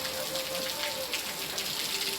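Steady rain falling outdoors on a morning, a constant close wash of patter with no breaks, with faint tonal background sounds.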